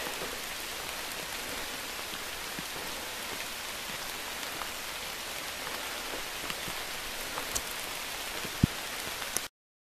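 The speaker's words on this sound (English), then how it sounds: "Hiking in the rain." Steady rain falls on the Thornton River Trail in Shenandoah National Park, a dense, even hiss of drops with occasional closer patters and taps, heard alone.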